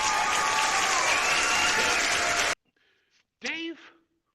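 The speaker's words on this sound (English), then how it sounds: "give a big round of applause to the big guy here" Big round of applause from a crowd during a wrestling-style tag team introduction, loud and dense for a couple of seconds before cutting off abruptly, followed by a short burst of a voice.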